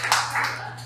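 A brief burst of applause from a church youth retreat audience, a short dense patter of many hands under a steady low hum.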